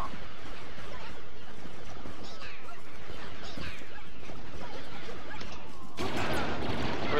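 Blaster fire from Star Wars Battlefront on Tatooine, with bursts of shots and crashing impacts across the clip and a louder, denser volley near the end. No one speaks.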